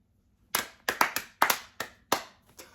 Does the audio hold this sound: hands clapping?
yes